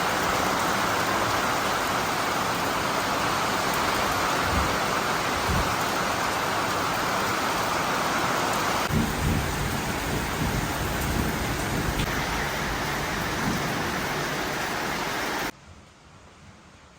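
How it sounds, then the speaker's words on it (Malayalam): Heavy rain with wind outside, a loud continuous downpour drumming on surfaces with gusty swells, cutting off abruptly near the end; no talking. "പുറത്ത് നല്ല മഴയാണ് കേട്ടോ. നല്ല വെള്ളമുള്ള മഴ, നല്ല കാറ്റും മഴയും എല്ലാം ഉണ്ട്."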